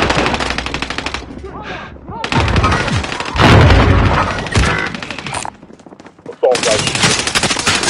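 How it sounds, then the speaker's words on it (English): Assault rifle in a video game firing long, loud, close automatic bursts with rapid rattling shots, broken by brief pauses and short gaps of quiet, with thuds and impacts mixed in. "Assault rifle."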